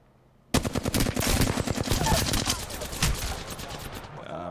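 Sustained machine-gun fire in Apex Legends bursts in abruptly after a near-silent start, then runs as rapid, loud, close shots for several seconds before stopping.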